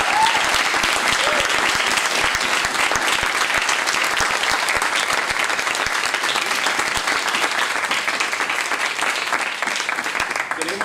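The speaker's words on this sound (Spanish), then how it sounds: "Un fuerte aplauso." Theatre audience claps strongly after a performance, a close, dense and sustained round of applause with individual sharp claps audible and murmuring voices faintly underneath.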